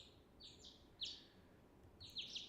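Birds chirp outside in bright, short high calls, a few tweets spaced across the moment, faint and gentle over a quiet background.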